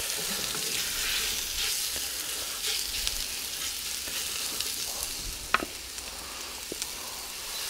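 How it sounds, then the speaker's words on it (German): Steady crackling sizzle of portions of pork frying in hot oil in a Dutch oven, continuous throughout with a few sharper pops near the end, no talking. "Jetzt werden wir uns das Kachelfleisch nehmen und portionsweise anbraten."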